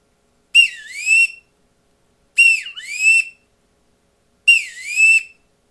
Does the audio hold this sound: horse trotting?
no